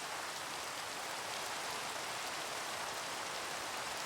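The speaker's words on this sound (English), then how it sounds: "Thanks for the rain." Steady rain falling in the video game Minecraft, a dense, even hiss of rainfall that continues without a break and carries no other sounds.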